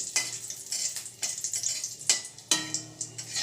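Cardamom, bay leaf, cloves and a dried red chili fry in hot oil with a close, continuous sizzle, broken by stirring scrapes and a few sharper crackling bursts.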